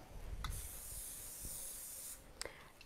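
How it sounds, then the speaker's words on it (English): Cooking oil spray hisses from a can onto a pan while making Chinese beef, a quiet, sustained hiss lasting about two seconds, framed by a few light clicks and taps. "let's spray it"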